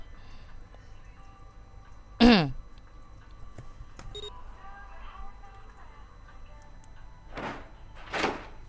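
A door opens in the visual novel game 9 Hours 9 Persons 9 Doors, heard as one sharp, loud mechanical thunk with a falling whine, followed a few seconds later by softer airy swishes over a quiet hum.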